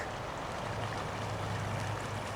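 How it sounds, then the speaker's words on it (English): Yreka Creek in Siskiyou, California, flowing steadily as a continuous broadband rush of water, near and even in level, with no talk over it. "And here it is, Yreka Creek."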